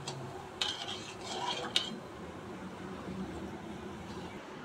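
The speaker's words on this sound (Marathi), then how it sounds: "4 वेलची घालून आता आपण हे सिरप असं ढवळून घेत राहणार आहोत" Spoon stirring sugar syrup with four cardamom pods in a pan for kala jamun, soft scraping and a couple of sharp metallic clinks early on, then a quieter low hiss of simmering.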